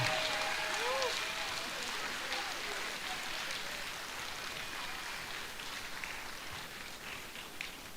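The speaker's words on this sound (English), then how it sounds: "Big round of applause, ladies and gentlemen." An audience applauds steadily and faintly from a distance at the awards ceremony of the 2025 FAI World Indoor Skydiving Championships, a dense rain-like patter with a few thin whistles early on.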